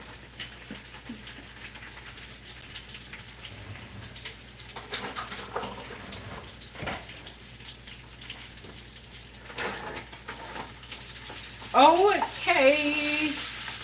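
Burger patties sizzle and crackle quietly in a pan, a soft continuous frying hiss with scattered pops, and someone speaks briefly near the end.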